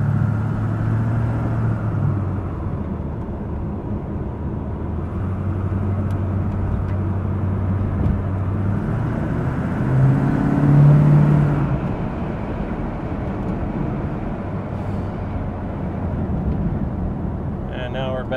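A 1963 Chevrolet Corvette coupe on the move, its engine giving a steady low rumble that swells briefly as it accelerates, with a voice talking over the drive.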